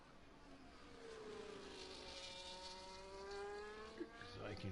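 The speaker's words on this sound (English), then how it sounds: "So I can hear the cars." Race cars drive a circuit in Brazil, heard from a distance as a thin, faint engine whine that rises and falls in pitch as the cars pass, over steady low background noise.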